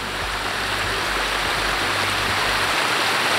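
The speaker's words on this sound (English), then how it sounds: "brought them back to the waterfall to collect some more water" A waterfall in the wild roars as a constant broadband hiss of falling water, loud and close and unbroken for the whole stretch, with no voices.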